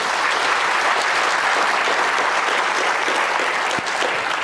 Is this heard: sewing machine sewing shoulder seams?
no